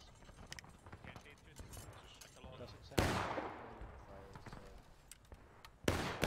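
Gunfire during a training exercise: two loud, sharp reports, one mid-clip and one near the end, each with a trailing echo, amid ongoing talk and scattered softer background pops.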